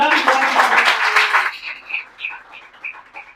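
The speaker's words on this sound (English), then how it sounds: "So once again, clapping for it." An audience in an English-speaking practice session claps, a dense burst of applause that stops abruptly after about a second and a half, leaving a few faint chirpy tones.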